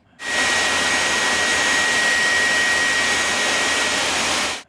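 A Hoover OnePWR Emerge Pet+ cordless vacuum runs at a loud, steady high-pitched whine with a constant airy rush, starting abruptly and cutting off cleanly after about four seconds.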